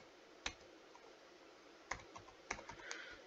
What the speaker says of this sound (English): I type in firmware.